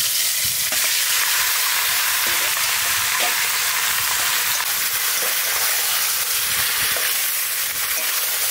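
Katla fish dropped into hot oil seasoned with bay leaf, dried chilli and cumin, giving a loud, steady frying sizzle with occasional stirring clatter throughout, no voices.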